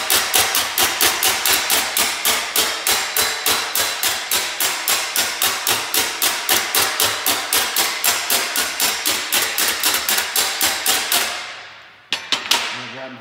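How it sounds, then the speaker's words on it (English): Hammer on dolly planishing welded sheet metal: a fast, even run of sharp metallic taps, several per second, loud and close, ending with a few scattered blows. "hammer on dolly kind of shrinks it"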